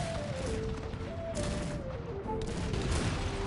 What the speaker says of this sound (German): So viele Kanonen und die kriegen das doofe Tor nicht auf